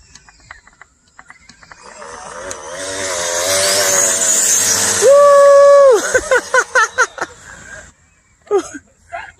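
A Traxxas XO-1 RC car tearing along on a speed run with a blown tire, its high motor whine building to a loud sustained scream, then cutting into a rapid stutter of short bursts before it fades, with voices talking in between.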